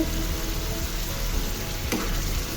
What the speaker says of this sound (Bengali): এই মাছটাকে আমি প্রথমে 2 মিনিট কষিয়ে নিব চুলাটা হাই হিটে রেখে